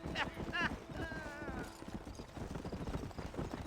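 Horse hooves clip-clopping at a steady pace in the video game Red Dead Redemption, with a brief neigh near the start and a voice speaking over the rhythmic hoofbeats.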